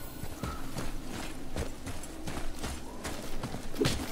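Horse hooves clip-clop at a walking pace in the video game God of War, a series of evenly spaced, fairly close thuds over a low ambient game soundtrack.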